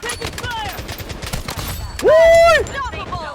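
Gunfire from a shooting video game played without reloading, with sniper rifles in use; rapid bursts and rising, sweeping electronic tones come through, one loud sustained tone near the middle, while players talk over the action.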